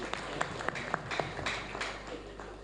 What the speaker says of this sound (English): let's give the last round of applause for his presentation